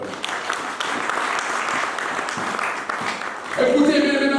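Church congregation applauding during a sermon, dense steady clapping filling the room throughout, with a voice rising over the applause near the end.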